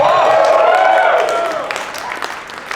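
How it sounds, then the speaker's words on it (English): An audience at a campfire storytelling event claps and cheers. The applause is loud and steady, then fades over a couple of seconds as a voice cuts in over it. "Round of applause."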